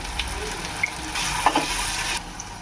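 Onion and curry leaves sauté in hot oil for suran bhaji, giving a steady, close sizzle, with brief scraping stirs partway through.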